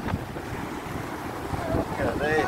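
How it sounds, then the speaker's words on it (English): Wind buffets the microphone in rumbling gusts near water, with faint voices in the background. "Oh, it's windy over here."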